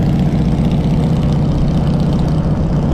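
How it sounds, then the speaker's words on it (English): A motorbike engine rumbles loudly nearby as it passes on a Shanghai street, a deep, steady throb that holds at a constant level throughout. "I hear a motorbike coming past"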